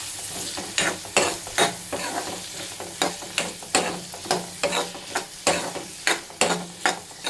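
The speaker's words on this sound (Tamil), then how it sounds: "இதை கொஞ்சம் லேசாக வதக்கிக்கலாம்" A spoon stirs and scrapes ingredients sautéing in a pan for turkey berry kuzhambu, with regular rhythmic strokes over a quiet background sizzle, close and fairly soft.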